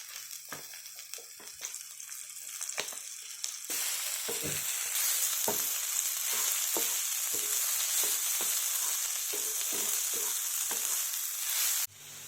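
Turmeric powder and oil sizzle in a pan while a bitter gourd curry is cooked: soft frying crackle with scattered spoon taps, then a louder, bright steady hiss that swells and holds before cutting off abruptly near the end.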